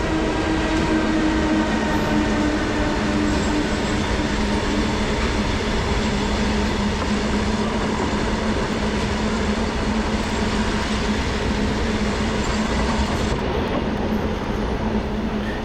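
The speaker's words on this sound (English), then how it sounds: "Much of India's freight also goes by rail on these enormously long trains." An enormously long freight train on an Indian railway rolling past nearby, a continuous loud rumble of wheels and wagons with faint steady squeal tones, unbroken for the whole stretch.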